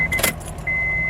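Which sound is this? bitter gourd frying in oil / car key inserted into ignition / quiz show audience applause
car key inserted into ignition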